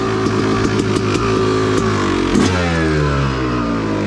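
A Yamaha YZ250 two-stroke dirt bike engine runs close by, warmed up, blipping the throttle in quick revs before settling into a loud, steady buzzing idle, with no talking.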